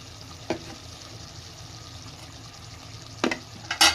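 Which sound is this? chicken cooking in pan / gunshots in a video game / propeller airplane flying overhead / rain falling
chicken cooking in pan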